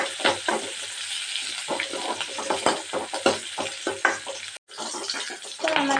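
Onion, garlic, ginger and green chili sizzle in a pan for a fish curry while a spoon stirs them, giving close, repeated scraping strokes over a steady frying hiss.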